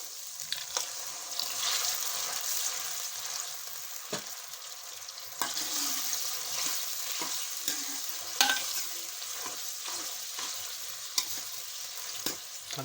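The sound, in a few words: frying and stirring masala with onion, ginger, garlic, green chili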